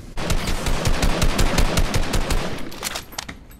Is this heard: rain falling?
no